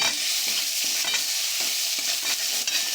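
Chopped tomato frying in a pan for a masoor dal egg tadka, bright continuous sizzle broken by several quick stirring scrapes, close and loud with no talking.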